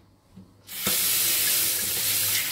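A kitchen water tap turns on and runs steadily, a close, loud hissing gush of water that starts abruptly after a short quiet moment and continues without a break.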